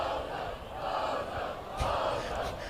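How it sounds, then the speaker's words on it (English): A student crowd in the stands at a high school homecoming football game, Corner Canyon, roars and cheers in a dense wash of voices that swells and rises again near the end. "We got a good student crowd here from Corner Canyon."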